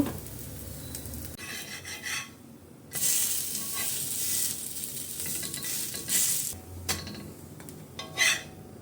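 Tapioca (cassava) dish cooking in a pan gives off soft sizzling and scraping, with bursts of brighter frying hiss rising and fading over several seconds, fairly quiet and without talk.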